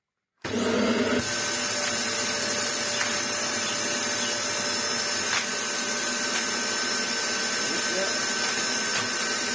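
A Dyson DC25 upright vacuum cleaner switches on during a repair test despite a no-airflow fault. It settles into a loud, steady motor drone and whine that continues without a break.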